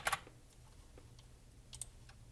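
Light keystrokes on a computer keyboard: a short cluster of clicks at the start, sparse taps, then another small burst near the end, all quiet and close with no talk.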